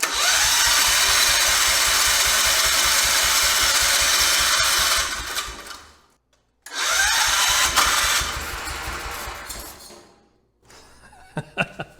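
A MacKissic wood chipper's engine cranks loudly and steadily after a shot of ether, a rapid mechanical chug that stops, resumes after a short silence and dies away, followed by a few faint clanks.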